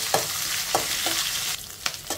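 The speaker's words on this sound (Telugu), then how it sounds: "ఉల్లిపాయ ముక్కల్ని ఒక 2 నిమిషాలు వేగనివ్వాలి." Chopped onion pieces frying in oil with dried chillies and curry leaves give a close, steady sizzle, broken by a few scraping stirs of a spoon at uneven intervals; no one speaks.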